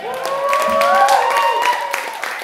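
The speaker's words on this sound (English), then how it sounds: "Give one more round of applause, come on" Applause and crowd noise at a live music gig in a small gallery space, clapping blended with cheering and a voice over it, steady and fairly loud throughout.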